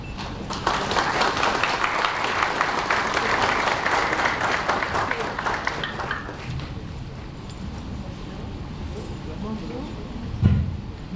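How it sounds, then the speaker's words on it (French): An audience at a launch ceremony in Haiti applauds Mlle Stéphanie Abissi, a loud, dense clapping that fills the room for about six seconds, then fades into quieter hall murmur and stray sounds. "je vous demande d'applaudir Mlle Stéphanie Abissi"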